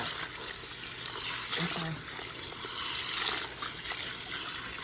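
Water gushes steadily from a salon sink tap while hair color is rinsed out, a close, continuous splashing rush with a brief word spoken over it.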